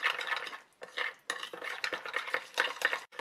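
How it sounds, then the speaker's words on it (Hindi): A spoon beats rice flour and ghee into a smooth paste in a bowl, giving close, steady scraping and clinking strokes in an irregular rhythm with brief pauses. "अब मैं इसमें डालूंगी 2 चम्मच घी और इसे हमें अच्छे से फेंट के एक स्मूथ पेस्ट तैयार करना है"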